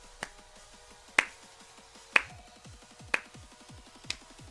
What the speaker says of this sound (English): I'm gonna drag out this slow clap